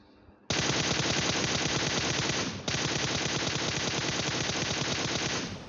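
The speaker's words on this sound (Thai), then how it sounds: "สำหรับการขึ้นสโคบแล้วเล็งทะลุกำแพงแล้วลากออกไปยิงศัตรูเนี่ย" Sustained automatic gunfire in the PUBG Mobile video game roars as a dense, continuous burst, loud and unbroken apart from a brief hitch midway.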